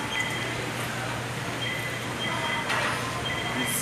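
Low steady rumble of an MRT train at Ayala station, with faint high electric whines and station noise around it.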